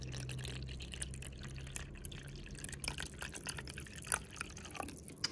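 Water poured and dripping into a tarantula's water dish inside an enclosure, a run of close, irregular drips and small splashes over a steady low hum, with no talking.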